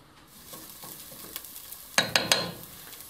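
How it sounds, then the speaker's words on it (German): Chopped onions sweat in fat in a pot for Grammelknödel, giving a soft, faint sizzle with a few quiet stirring scrapes, then three sharp clattering knocks of a spoon against the pot near the end. "Den können wir gleich mal ins Reinl geben und ein bisschen ausschwitzen lassen."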